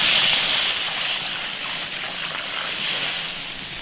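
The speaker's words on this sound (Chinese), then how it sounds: "加热水。" Hot water hits a hot iron wok holding fried fish head and aromatics, releasing a loud, continuous steamy hiss that swells and eases over several seconds, heard alone without speech.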